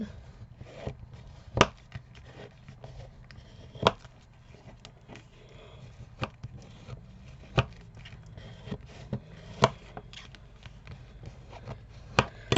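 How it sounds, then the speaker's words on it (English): A bone folder burnishes freshly glued paper pages in a handmade toilet-paper-roll album: soft rubbing strokes broken by sharp taps and knocks at irregular intervals, close up and quiet, with no talk. "Now I just want to come back with my bone folder and burnish these down."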